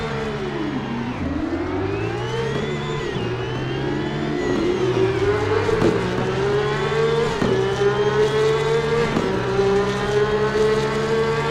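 A Porsche Cup race car at Monza in the game Assetto Corsa screams close and loud, its engine note climbing repeatedly through the gears with brief dips at each upshift.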